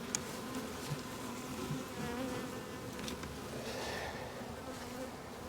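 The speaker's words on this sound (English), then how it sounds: "Look at all these bees in here." A dense, continuous buzz of many honey bees swarming around hive frames hums close by, steady and even throughout with no voices.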